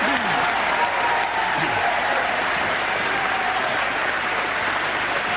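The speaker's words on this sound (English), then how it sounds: "there's applause in here from supporters of both candidates" Supporters of both candidates applaud in a hall at a 1955 UK general election count, a continuous wash of clapping heard somewhat distant and muffled, with faint speech in the background.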